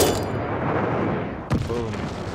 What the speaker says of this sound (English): Glide bomber assist coming in.